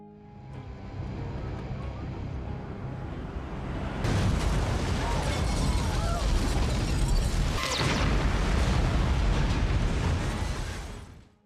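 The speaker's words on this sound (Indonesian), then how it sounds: "bom yang dipasang di rumah Luis meledak dahsyat" A loud, sustained blast erupts with heavy low rumble and crackling debris, swelling suddenly and roaring steadily before cutting off.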